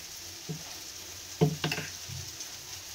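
Mustard oil heats in a wok, a quiet background hiss broken by a few sharp, close crackling spits and pops clustered in the middle, then settling back to a faint simmer.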